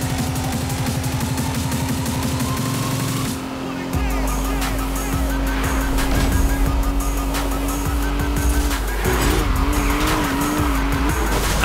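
Racing cars in Need for Speed Rivals roar with loud, sustained engine drone, squealing tires and skidding, with rising and falling revs and a shift in pitch partway through as the cars chase and ram.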